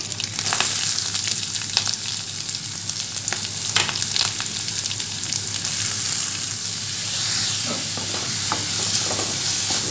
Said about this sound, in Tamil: இப்போ வெங்காயம் சேர்த்துடலாம்